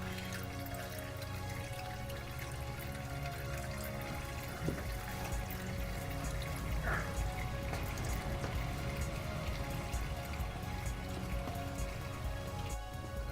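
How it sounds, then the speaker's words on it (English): Fluid draining steadily from an engine drain during an oil change, a continuous close trickle with scattered drips and no talk over it. "Let that continue to drain until it too slows to a slow drip."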